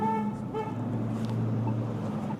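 Car horns honk on a street in a steady, sustained blare over low traffic rumble, the tones layered and continuous from start to finish with no talking.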